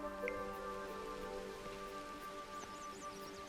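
Steady rain falling in the video game Universim, a soft continuous patter holding at an even level with faint chirps on top.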